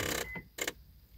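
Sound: Toyota Prius door lock mechanism noise when unlocking

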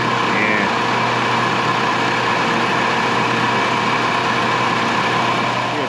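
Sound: 2007 Dodge Cruiser 2.4 four-cylinder engine running

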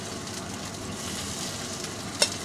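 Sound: beef pieces frying in a pan

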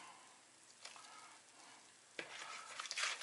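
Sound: stirring potato pancake batter

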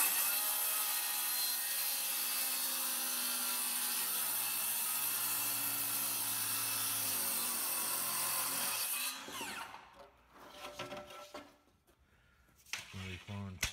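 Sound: saw cutting drywall trim, pushed hard

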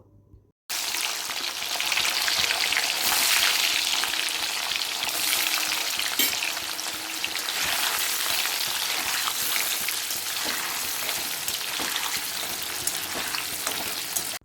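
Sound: paneer frying in hot oil in a wok

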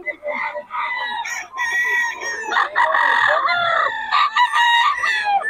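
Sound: chickens and roosters crowing and clucking

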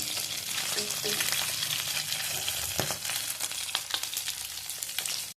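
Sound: fish frying in oil for chilli fish

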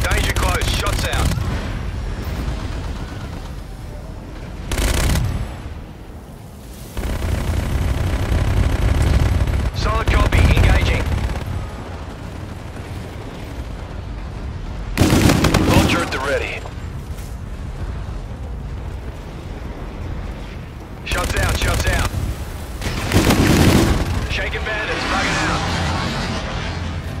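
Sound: gunfire in a video game

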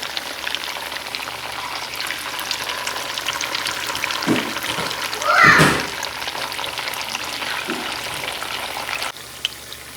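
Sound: pitha cakes frying in a pan

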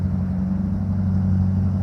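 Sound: Mercedes 450 SL engine idling, rumbling

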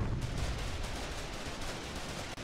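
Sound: tank gunfire in a video game

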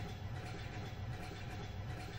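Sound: train running on rails in a video game

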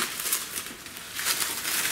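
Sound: removing plastic bag from case packaging

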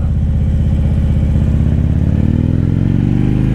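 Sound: Harley-Davidson Street motorcycle engine revving

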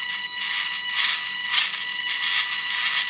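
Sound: Losi micro RC car drivetrain running, one tire held

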